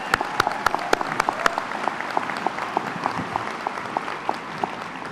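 Graduation ceremony audience at Ringling College applauding, a dense crowd of clapping with a few sharp, loud individual claps standing out near the start, then a steady, thinner patter.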